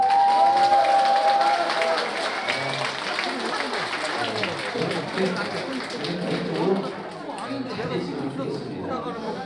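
Applause from the crowd at a fan-club founding ceremony and festival, a loud continuous patter of many hands that slowly fades, mixed with crowd chatter and voices talking over it.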